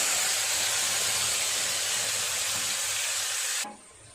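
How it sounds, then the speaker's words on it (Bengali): Ginger and tomato paste hits hot oil already tempered with dried red chillies, bay leaf and cumin, giving a loud, continuous close sizzle that cuts off abruptly near the end. "ফোড়নটা ভাজা হয়ে গেছে, দিয়ে দেব আদা আর টমেটো বাটা"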